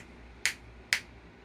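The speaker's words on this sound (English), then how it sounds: "So y'all got to excuse me when I clap my hands" Two sharp hand claps, close and loud, about half a second apart, against a quiet background.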